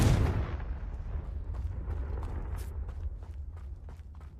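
A Confringo fire spell blasts in Hogwarts Legacy, opening with a heavy burst that decays into a rumbling crackle, with faint thuds scattered over the next few seconds and no speech.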